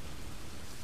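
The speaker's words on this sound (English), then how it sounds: "I can't sleep with the rain, honey. It's just too loud for me." Steady rain, a dense, even wash of noise that fills the short moment without any gaps or other sounds.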